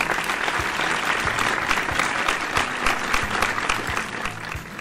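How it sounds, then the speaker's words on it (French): Applause on a cooking show, a continuous dense burst of clapping heard alone and fairly close, holding steady before tapering slightly at the end. "Je pense que j'aurais des applaudissements."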